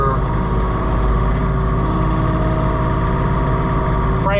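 A John Deere 3046R compact tractor engine runs steadily at close range, a continuous low droning hum with no talk over it, used for snow blowing.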